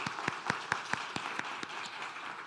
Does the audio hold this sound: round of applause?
yes